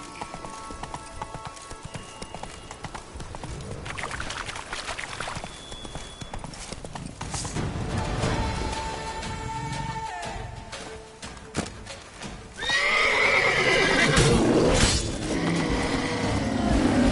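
Roach the horse in The Witcher 3, hooves clip-clopping in a steady galloping rhythm, joined near the end by a loud whinnying neigh, close and prominent.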